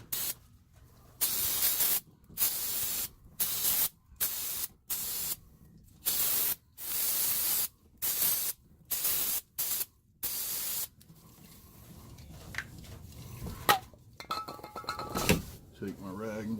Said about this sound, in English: here is where the brake parts cleaner comes in handy